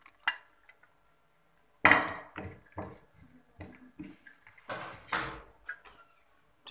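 Two medium onions and two heads of garlic dropped into a pressure cooker, a few sharp knocks and clatters against metal with short rustling bumps between them, close and dry, no talking.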